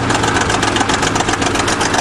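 A 20-ton bulldozer engine idles close by, a steady, loud, throbbing diesel rumble with an even rhythm and no talking.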